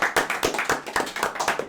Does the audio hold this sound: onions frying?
no